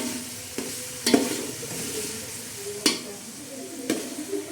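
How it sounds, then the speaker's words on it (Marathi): Ginger, cumin and garlic paste sizzles steadily as it fries in a pan for biryani, with a spoon scraping and stirring in several sharp bursts over the constant hiss. "अद्रक आणि जिऱ्याची आणि लसणाची पेस्ट टाकलेली तर हे आता चांगल्यापैकी आपण असा मस्त हलवून घेणार आहोत"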